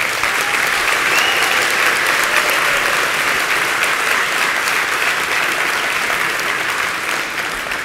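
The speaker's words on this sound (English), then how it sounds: "So please, an applause to Naomi." Sustained audience applause at the opening ceremony of the HR19 harm reduction conference, a dense, steady wash of many hands clapping in a large hall, loud and continuous throughout with only a slight easing at the very end.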